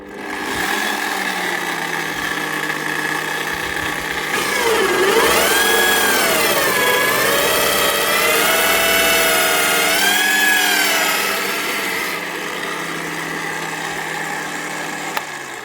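A Parkside 10 mm plug and dowel cutting bit, driven by a power drill, bores into a wooden beam: a loud, sustained motor whine whose pitch sags and rises as the bit bites into the wood, steady throughout with no voices.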